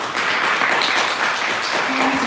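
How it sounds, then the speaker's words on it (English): Applause from an audience at a student election candidate question-time event, a steady dense wash of clapping lasting a couple of seconds with faint murmuring underneath. "Can you have a round of applause, please?"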